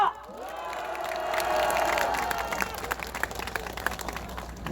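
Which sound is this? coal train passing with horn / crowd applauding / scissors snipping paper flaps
crowd applauding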